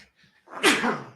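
A single sharp human sneeze bursts out after a quiet breathy intake, close and loud, in an indoor podcast-style setting.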